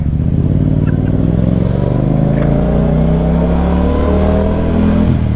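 A 1000cc motorcycle's exhaust revs loudly and close by, the engine drone climbing steadily in pitch as it accelerates over several seconds without a break.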